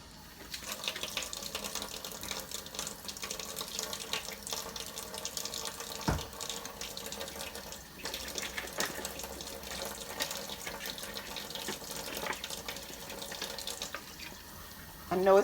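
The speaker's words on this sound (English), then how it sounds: "So I wash this lid" A jar lid washed under a running kitchen tap, with a steady stream of water and occasional clatter and splashing as it is handled, continuing for the whole stretch at moderate level.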